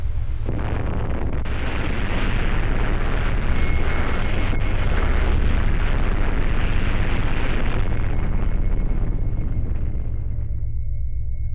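A deep, sustained roar of a nuclear atomic bomb test explosion over Bikini Atoll, a sudden onset swelling into a long, loud rumbling boom that slowly fades after about ten seconds.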